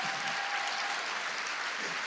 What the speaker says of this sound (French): Est-ce qu'on peut donner une acclamation?